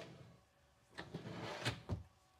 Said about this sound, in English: And this drawer here, have a pull-out drawer.